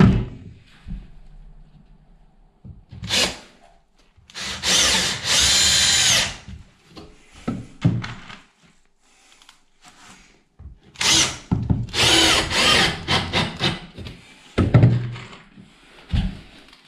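A power drill drives screws while a tiled shower niche is built in a bathroom, with several loud whirring bursts of a few seconds each, separated by short pauses and knocks.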